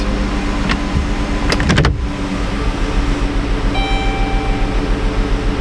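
A 2016 Dodge Caravan engine idles with a cylinder misfire, a steady loud mechanical drone close up, with a few sharp clicks early on and a thin whine joining near the end.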